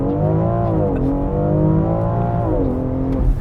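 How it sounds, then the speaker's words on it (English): A 2020 BMW X3 M Competition launches hard under launch control, its engine roaring close and loud, climbing in pitch, with two clear dips where it shifts up before pulling higher again. "'20 BMW X3M Competition with launch control."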